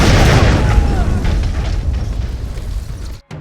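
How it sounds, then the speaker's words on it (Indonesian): A C4 charge detonates in an action film scene: a loud, close booming blast with a long rumbling roar that gradually fades, then an abrupt cut to silence near the end. "Mike yang hanya tersisa 1 peluru di pistolnya menempelkan C4 yang dia bawa ke ponsel miliknya."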